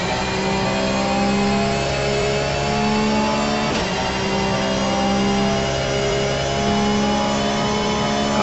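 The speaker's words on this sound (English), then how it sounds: "We are on board with one of the Porsches." On-board a Porsche GT race car at the Sebring 12-hour circuit, the engine blares loud and constant with rising and falling revs through gear changes and a brief jolt midway.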